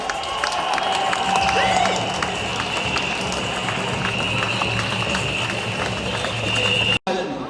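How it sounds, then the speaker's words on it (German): A crowd at a demonstration at Resselpark by Karlskirche applauds continuously with dense clapping and some cheering, steady and loud throughout before cutting off abruptly. "Geben uns einen Applaus und die Dankeschön!"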